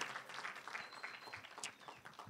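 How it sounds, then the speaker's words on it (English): A church congregation at a rainy Sunday 10 o'clock service in Montreal applauds, a dense wash of many hands clapping steadily at moderate level for a couple of seconds. "give yourselves a round of applause for getting here in the rain"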